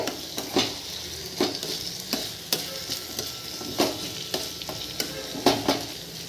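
Ginger, garlic and tomato fry in a pan for a prawn and spinach gravy, a steady close sizzle broken by regular scraping stirs of a spoon against the pan, with no talking.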